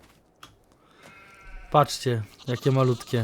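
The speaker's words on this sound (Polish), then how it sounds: "jak słyszycie w tle nasze owieczki" Sheep bleat on a farm with young lambs in the pen, several nearby calls rising and falling in bursts, mixed with someone speaking close by.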